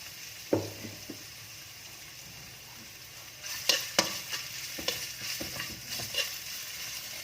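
Ingredients for braised pork are stir-fried in a pan with peppercorns and coriander root, a soft sizzle under sporadic spatula scrapes and clatters that grow busier and louder in the second half, close by with no voices.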